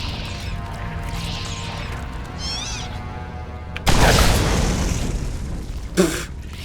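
Rocket launcher rounds explode in Borderlands: one loud, sudden blast trails into a fading rumble, and a second, shorter bang follows a couple of seconds later over quieter game sounds.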